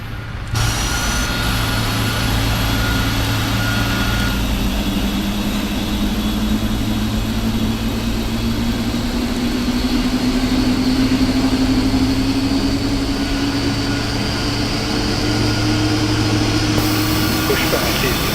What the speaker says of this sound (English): Start engines 2 and 1. Starting 2 and 1.